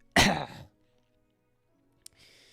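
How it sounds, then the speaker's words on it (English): A single short, throaty cough close by, followed by silence and a faint click. "there has been a little bit of a cough recently"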